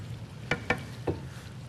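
Tomatoes and basil being stirred in a pan, heard as three quiet clicks of a utensil against the pan over a faint low background.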